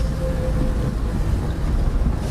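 A Holden Torana 1300 engine pulling uphill in third gear, a steady low droning rumble heard from inside the car, loud and unbroken.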